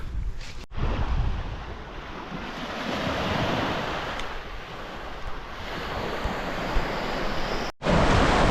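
Surf rolls and breaks on a rugged beach in Sardinia, a continuous roar mixed with wind buffeting the microphone, loud and close, with two brief dropouts.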